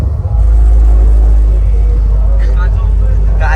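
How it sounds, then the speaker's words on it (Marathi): A car pulls away on the way to a wedding, its engine rumbling loud and steady from inside the cabin before picking up a little as it starts rolling. "गाडी हलते आमची डायरेक्ट"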